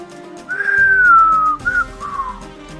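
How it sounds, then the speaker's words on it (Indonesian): A loud, clear whistle from a person's lips rises into one long sliding note, then breaks into a short chirp and a falling tail, heard alone and close as a sound effect in an Indonesian audio drama. "maka keluarlah suara siulan dari sela bibirnya"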